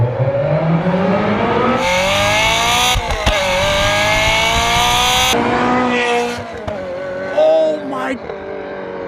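A Ferrari F355 engine, rebuilt after being abandoned, revs hard toward 8500 RPM in loud, rising, sustained wails with sharp harmonic steps, then drops back to a lower growl while a voice exclaims over it.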